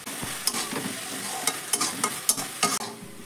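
A coconut and jaggery filling is stirred continuously in a pan over a medium-low gas flame, a soft sizzle under repeated scraping and tapping strokes of the spoon, with no talk.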